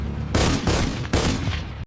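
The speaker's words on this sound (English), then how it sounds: "German machine gunners open fire." German machine gunners in a World War I trench battle firing sustained bursts of machine gun fire, loud and close, in three rapid rattling volleys with short gaps before cutting off abruptly.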